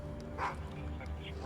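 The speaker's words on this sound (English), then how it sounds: "Last warning, this is the police with a K-9." A police K-9 dog barks once, fairly loud, over a steady low engine-like rumble and background voices, with a few quieter yips after.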